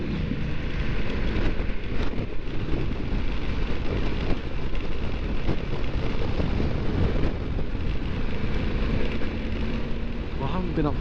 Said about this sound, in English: There's quite a gust of wind up here, viewers.